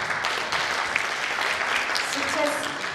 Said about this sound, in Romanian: Să o primim cu aplauze.